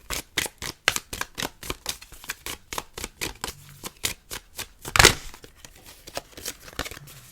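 Tarot cards shuffled by hand in a steady run of quick, crisp riffling slaps, close and fairly loud, with one louder flurry partway through.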